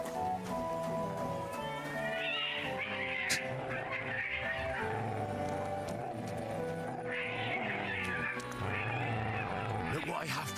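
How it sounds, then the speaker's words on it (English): A cat in Kingdom Come: Deliverance II yowls in drawn-out, wavering meows over a constant background of game ambience and music, with voices talking throughout. "Cat."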